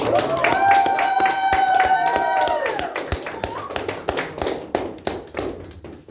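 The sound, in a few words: wedding guests applauding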